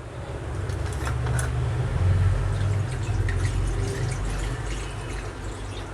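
Water poured into a kadai on a lit gas stove while cooking, a steady splashing and trickling wash over a low burner hum, continuous and close for several seconds.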